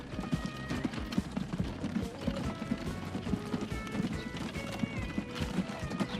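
Hooves of a horse pulling a big cart in the video game Transport Fever 2 clip-clop in a steady, brisk rhythm, close and continuous, with the horse briefly whinnying in the mix.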